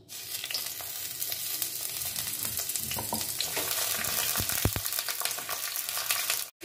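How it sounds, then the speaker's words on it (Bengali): Steady, loud sizzling of pointed gourd frying in hot mustard oil, with occasional stirring scrapes and crackles throughout. "এতে সর্ষের তেল দিয়ে নিয়েছি আমি পটলগুলোকে ভেজে নেব"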